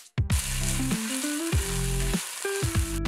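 Ginger garlic paste fries in a hot pan while chicken mandi is being cooked, producing a loud, close, continuous sizzle with a steady tonal hum running beneath it.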